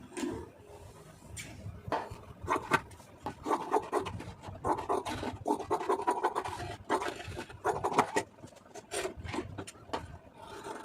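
Scissors cut through blouse lining fabric in short, irregular crisp snips and scraping rasps at close range, with no talk over them.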